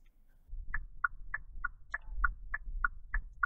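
Ampire WFS400-PRO CAN bus immobilizer signalling that service mode is on, heard as ten short, evenly spaced electronic beeps or chirps over a low background rumble.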